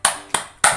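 Three sharp hand claps land at even intervals, each bright and close with a short ringing tail, as part of a children's chicken clapping game.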